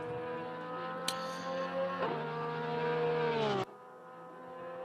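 A GT3 race car in Assetto Corsa Competizione at Monza, its engine droning steadily with rising revs and a gear change, one brief tyre squeal, then a sudden cut to quieter sound.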